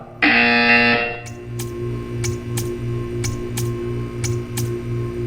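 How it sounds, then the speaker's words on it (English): A harsh electronic buzzer from the video game Portal 2 blares once, loud and sustained for under a second, followed by a string of evenly spaced sharp ticks over a low pulsing hum. "You will hear a buzzer."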